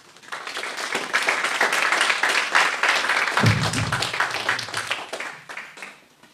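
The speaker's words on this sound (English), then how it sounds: "give yourselves a round of applause" A seminar audience gives itself a round of applause, clapping swelling quickly to a full, lively crowd sound, holding for several seconds, then thinning and tapering off toward the end.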